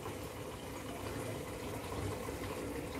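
Water pours steadily into a washing machine drum as it fills, a constant close splashing rush with a low churning undertone and no voices.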